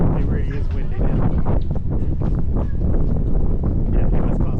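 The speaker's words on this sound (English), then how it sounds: "It really is windy now." Strong wind buffets the microphone in loud, continuous gusts on a boat on Lake Ashi, Japan, with voices talking underneath.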